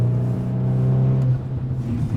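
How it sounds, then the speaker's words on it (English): VW T-Roc R braking hard from 100 km/h to a stop on a slippery wet winter road with winter tyres, giving a steady close engine and tyre rumble that eases slightly toward the end, with no talking. "Let's do a 100 to 0 test to see how good it is in the winter condition"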